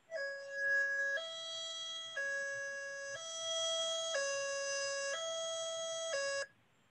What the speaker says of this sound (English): that distinctive two-tone siren is what we use only during an evacuation.